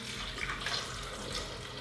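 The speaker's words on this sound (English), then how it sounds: "Add some water" Water poured from a tap into a Blendtec blender jar holding chopped carrots, a faint steady rushing and trickling stream heard on its own.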